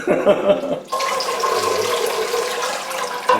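Water pouring steadily over potted Phalaenopsis orchids being soaked, a continuous close splashing rush that begins abruptly after a brief moment of handling noise and runs on evenly.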